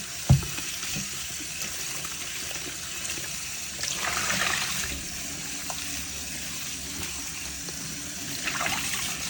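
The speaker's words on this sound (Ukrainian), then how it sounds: "Далі промиваємо їх водою ще раз і все готово." Running water rinsing cleaned white champignon mushrooms, a soft steady flow with a sharp clatter at the start and a couple of louder surging splashes as the mushrooms are turned under the stream.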